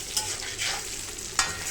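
Brinjal coated in chili powder stirred in a pan, a soft continuous sizzle broken by a few brief scraping strokes of the spoon, close and fairly quiet with no talking.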